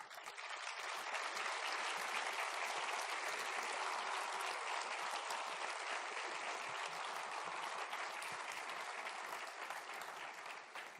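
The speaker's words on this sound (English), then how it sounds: "So I wish you could really give them a big applause when they join me on stage." A large audience of about 600 at a Phonak Belong hearing-aid launch event claps continuously, a full, even wash of applause that holds steady throughout without speech.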